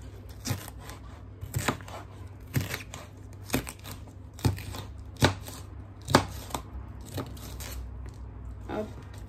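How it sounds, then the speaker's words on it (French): Bell peppers in red, yellow and green are sliced with a knife, giving a steady series of sharp, close chopping taps against a board, spaced about once per second, with no talking. "Là, je coupe mes poivrons."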